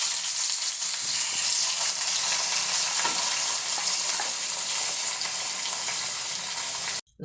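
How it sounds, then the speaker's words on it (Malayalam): Ambazhanga (hog plum) pickle frying in a pan as chili powder is stirred in, a steady close sizzle that runs without pause and stops abruptly near the end. "നമ്മൾ മുളക് പൊടി ഇട്ടിട്ട് മിക്സ് ചെയ്യുകയാണ്."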